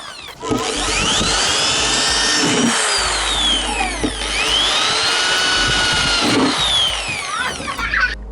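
A power drill boring extra holes in the body of a Jeep Cherokee XJ for a snorkel fitting. The drill is loud and close, with a high whine that rises and falls over two long passes and a grinding bite into the panel.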